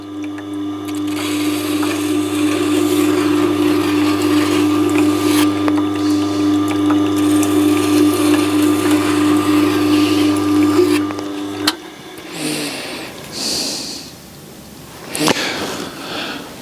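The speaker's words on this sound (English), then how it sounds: "I'm honing with the wheel going away from me." A Tormek T8 sharpener's honing wheel hums steadily as a knife is honed, a low motor drone with a faint scraping whir for about twelve seconds before it winds down, followed by quieter handling noises.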